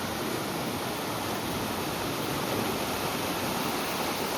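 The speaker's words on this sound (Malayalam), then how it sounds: "മുകളിൽ നിന്ന് ആ വെള്ളം ഒഴുകി വരുന്ന ഒരു കാഴ്ച ഉണ്ടോ" A steady, full rush of stream water pours down from higher ground near an old bridge in an Idukki village, a continuous broadband roar with no breaks and no voices.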